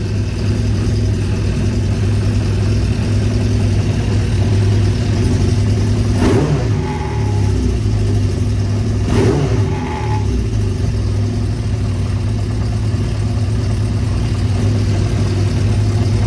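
Honda Diversion 600 motorcycle engine idling steadily after carburettor balancing, with two sharp throttle blips several seconds apart, each dropping back slowly to a loud, close idle.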